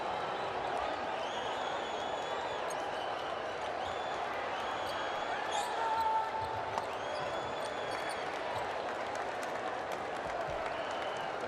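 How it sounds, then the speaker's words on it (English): Artificial crowd noise piped in at a FIBA AfroBasket 2021 qualifier between South Sudan and Mali in Rwanda, a faint, even wash of cheering and clapping with occasional ball bounces and sneaker squeaks beneath commentary. "Got the artificial crowd noise played in as well"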